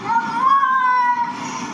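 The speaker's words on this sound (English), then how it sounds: "The cat is actually saying, yeah, no more." A cat that does not want a bath gives one drawn-out, wavering meow, close and fairly loud, lasting under two seconds.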